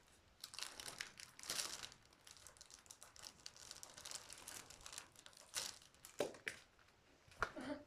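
Wrapped gift package being opened by hand: crinkling and crumpling of wrapping material in irregular bursts, close and fairly quiet, with a few sharper crackles toward the end.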